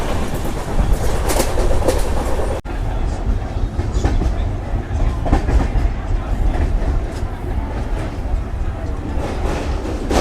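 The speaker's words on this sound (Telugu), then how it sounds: "మనకు బ్యూటిఫుల్ WP7 లోకోమోటివ్ అయితే ఉన్నది." Passenger train hauled by a WP7 locomotive on a Kumbh Mela special run, a steady loud rumble of wheels and carriages with clickety-clack throughout, one brief dropout near the start.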